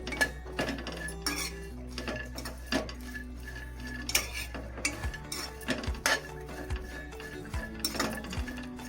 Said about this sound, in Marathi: आता मी गवार चांगली भाजून घेते.